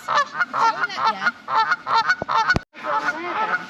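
Geese honk again and again at close range, their nasal calls overlapping in quick bursts with a brief gap near the end.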